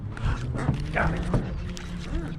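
Dogs bark in a few short, scattered yelps at a moderate distance outdoors, mixed with faint background noise and brief voices.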